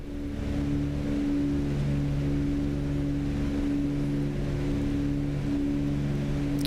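Twin piston engines of a Cessna 404 Titan in MSFS 2024 drone steadily as the throttles open, a loud continuous hum with layered tonal harmonics and no talk.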